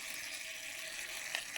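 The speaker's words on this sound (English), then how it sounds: "Bacon frying nicely." Bacon fries in a pan while someone cooks breakfast in an inflatable kayak, giving a faint, steady, hissing sizzle throughout with a small crackle near the end.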